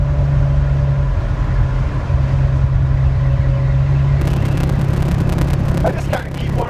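A 1967 Ford Mustang Fastback cruising on the interstate at about 72 mph, giving a steady engine drone and road rumble with a constant low tone, later joined by wind and rattle noise.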